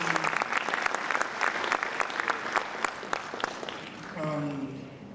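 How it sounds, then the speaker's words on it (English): Audience at a climate resilience and energy conference in Freetown, Sierra Leone, giving a sustained round of dense applause, fading near the end as a voice begins speaking. "You deserve a big round of applause."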